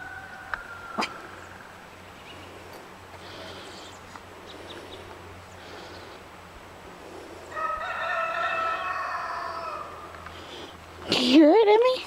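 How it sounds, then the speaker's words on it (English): A rooster crows loudly a few seconds in with a long, drawn-out call and crows again close at the end. Faint birds, a low steady hum and soft voices fill the quiet outdoor background. "You hear the roosters, Emmy?"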